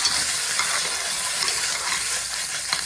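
Steak sears in a hot pan with a loud, steady, bright sizzle that hisses continuously, with a few small crackles and spits near the end and no voices.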